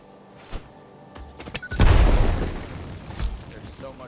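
In the video game Satisfactory, a few sharp pops lead into one loud, deep explosion whose rumble decays over about a second, followed by a smaller burst.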